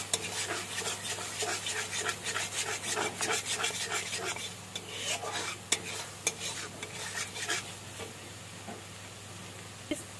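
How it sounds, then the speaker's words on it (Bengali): A pan of fish curry frying as a spoon scrapes and stirs it in quick, rhythmic strokes over a steady sizzle, close and continuous with no voices. "তো গাইস আমার 1 মিনিটও ভাজা হয়ে যাচ্ছে।"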